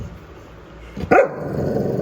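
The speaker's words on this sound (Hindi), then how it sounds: "ये खाने में लगी है, गुर्रा रही है बैठे बैठे" A Labrador sits chewing its food and lets out a short, loud growl-like vocal burst about a second in, over low steady background noise.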